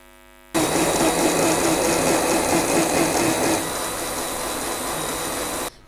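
A mixer grinder switches on abruptly and runs hard, pulverizing fruit cake ingredients with sugar into a paste, a loud steady whirring roar that eases slightly midway before cutting off.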